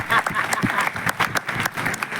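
Audience applause at a Gyaan Ganga Mahotsav religious discourse gathering: dense, steady clapping from a crowd, loud and continuous throughout with no speech over it.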